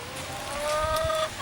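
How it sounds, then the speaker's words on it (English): Brooding hens cluck and murmur close by, a drawn-out tonal call rising over the soft, steady clucking, with no talking. "Got a couple of brooding chickens."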